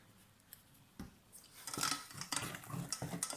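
Choux pastry panade mixed with a splash of crème fraîche in a pan, heard as soft scraping and dull knocks of a utensil against the pan. The sound is faint at first, then grows busier and louder.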